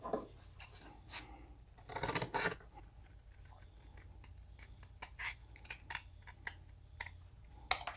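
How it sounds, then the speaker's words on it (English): Scissors snip through a heavy-duty aluminum foil disc traced to 4 inches, giving a series of close, crisp cutting bursts, one louder cluster near the start and smaller snips scattered after, with no talking. "And I'll cut that out with scissors."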